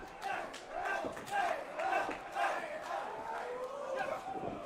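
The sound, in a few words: wrestling match crowd cheering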